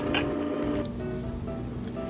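Glutinous rice is washed by hand in a bowl of water, giving soft squishing and swishing sounds with light patter as the grains are stirred, close and continuous with no talk.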